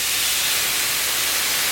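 Bourbon poured into a hot pan of cooking bacon sets off a loud, steady, close sizzle and hiss that lasts the whole short moment.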